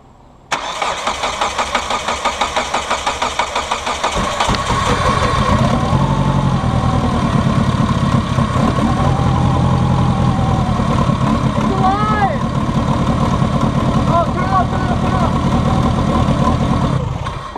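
A project race car's engine cranks and fires for the first time, settling into a loud, steady close-up idle with rough pulses, while people talk faintly over it.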